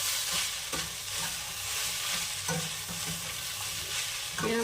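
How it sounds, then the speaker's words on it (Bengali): Vegetable pasta with Maggi masala is stirred in a hot pan, giving a steady, close sizzle with scraping spoon strokes running without a break and no one speaking. "নেড়ে নেব ভালোভাবে।"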